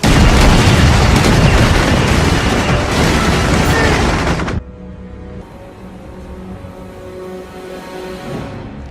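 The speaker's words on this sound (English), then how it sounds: "I want every gun we have to fire on that man." Massed guns firing on Luke Skywalker in a Star Wars film, a loud sustained barrage of blasts and explosions that cuts off abruptly midway, leaving a quiet low rumble with faint tones.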